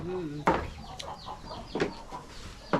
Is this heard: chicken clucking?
yes